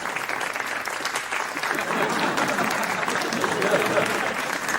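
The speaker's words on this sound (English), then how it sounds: "The clapping noise is still going on." A steady clapping applause sound effect plays during an online chess stream, dense and continuous from start to finish, with a speaking voice faintly underneath.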